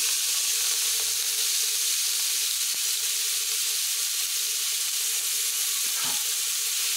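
Onions sauté in hot oil with fennel seeds inside a pressure cooker while pepper chicken is being made, giving a steady, broad sizzling hiss that runs unbroken and fairly loud with no talking.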